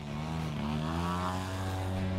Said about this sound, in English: weekend pilots can launch their pint-sized aircraft and remotely pilot them high above the landscape